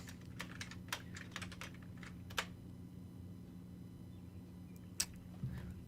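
Keys clicking on a computer keyboard, irregular light taps in short bursts with a couple of sharper strikes, quiet and close over a low steady hum.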